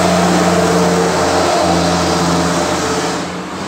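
A car drives past on a busy street outside a house, a loud broad engine rush that holds steady and then fades slightly toward the end, with no voices.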